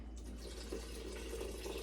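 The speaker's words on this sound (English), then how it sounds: "And I'm going to do 340 grams of warm water." Warm water poured into a bowl of sourdough starter over a low steady hum, making a soft continuous trickle throughout.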